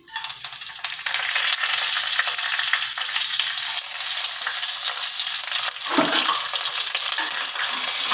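Whole spices hit hot oil in a pan on a gas stove turned down to low flame, giving a loud, steady, hissing sizzle that runs throughout, with a faint stir partway through and no talking.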